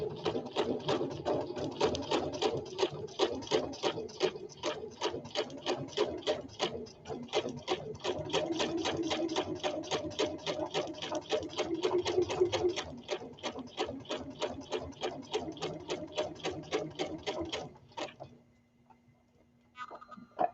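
A sewing machine stitches baby ruffle bloomers in a fast, steady rhythmic run of needle strokes for about seventeen seconds, close and alone, then slows and stops.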